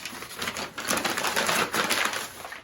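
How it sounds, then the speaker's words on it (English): Brown paper bag being crumpled by hand for packing a vintage Blenko glass decanter, a close run of dense crackling bursts with brief pauses between squeezes. "just gonna crumple it up the same and stuff it around the sides"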